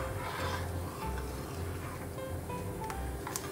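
Vegetables including peas and apricot or tinda being mixed in a cooking pot, a soft scraping and shuffling over a steady background sizzle, close and low in level.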